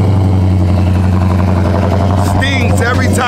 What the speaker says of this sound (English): Early in the morning, I'm gonna go ahead and get you guys started with the cold start.